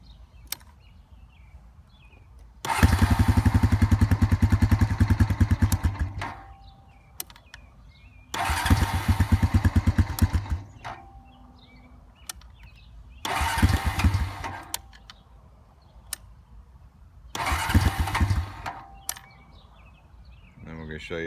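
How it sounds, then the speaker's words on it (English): An engine powered by a supercapacitor battery pack cranks in four separate loud bursts of several seconds each, with quiet gaps between them and faint background noise. "I'm gonna go ahead and run it down a little bit by cranking."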